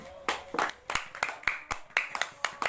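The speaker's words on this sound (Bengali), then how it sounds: "সবাই নীলাশার জন্য জোরে হাততালি দাও" Children in an art class clapping together, a quick string of sharp, uneven claps close by that start and stop in small bursts.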